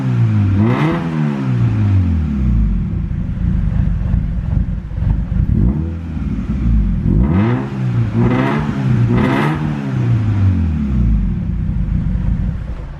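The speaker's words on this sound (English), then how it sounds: "if I just blip the throttle here," Honda D16Z6 engine fitted with a big HX35 turbo, revved with repeated throttle blips that rise and fall across the whole stretch, loud and close, each blip swelling into a rough rising roar before settling back to a lumpy idle.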